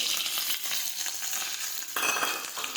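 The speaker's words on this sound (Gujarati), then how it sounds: "હવે આપણે ટિંડોરા અને મરચાં નાખી દઈશું." Chopped tindora and green chillies hit hot oil already crackling with mustard seeds and cumin, producing a dense, loud, steady sizzle with light stirring scrapes close by.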